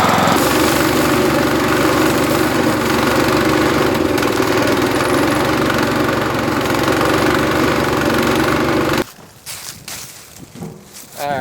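Small lawnmower engine running on Everclear alcohol instead of gasoline, a loud steady close-up drone with a rough pulsing beat, cutting out abruptly near the end and leaving scattered faint noises.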